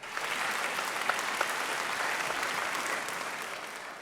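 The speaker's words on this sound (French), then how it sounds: "je demande à tous ceux qui sont ici d'applaudir tous les managers des" Audience at the Benin Top 10 Awards 2019 ceremony applauds artists' managers, a steady, dense wash of clapping that holds evenly throughout with no talk over it.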